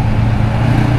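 A BMW car passes on a road in La Union, its steady low engine and tire rumble loud and close for about a second with no talk.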